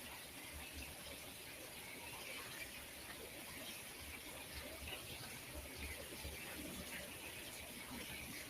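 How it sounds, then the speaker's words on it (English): Water flows steadily along a river in a continuous, faint rushing wash with no breaks, heard alone at low level. "Hearing the water flowing along a river"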